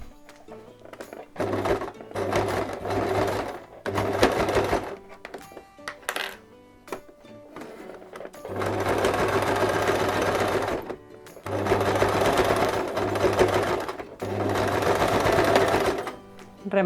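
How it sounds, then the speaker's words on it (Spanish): A sewing machine runs a straight stitch close to the edge of a zippered mini crossbody bag, buzzing in several bursts of steady stitching with pauses between, close and loud, with a voice talking in the gaps. "haciendo una puntada recta con la máquina bien cerquita del borde"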